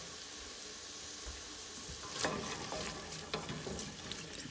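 Onions frying in a pan give a steady, quiet sizzle that runs throughout, with a few louder crackles and spits near the end.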